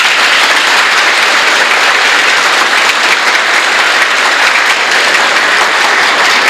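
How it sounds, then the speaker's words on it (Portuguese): Loud, sustained applause from an audience at an education event, a steady wash of many hands clapping continuously with no voices over it. "Uma salva de palmas."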